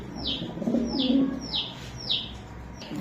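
A racing pigeon coos four times in a soft, evenly spaced rhythm, close by, over a low background murmur.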